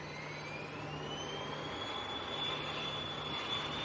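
A small jet starting its takeoff roll at Manchester Airport, a steady distant engine roar with a rising whine that holds on throughout.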